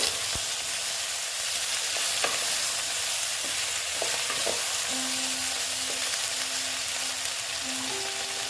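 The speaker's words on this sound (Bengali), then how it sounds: "দেখো বেগুনগুলো দিয়ে দিলাম দিয়ে আবার আমি এটা অল্প নেড়ে চেড়ে দেবো" Eggplant pieces fry in a pan for a small tengra fish curry with potato, a constant hiss of sizzling oil with occasional spatula scrapes and stirring clicks, plus a faint steady hum in the background.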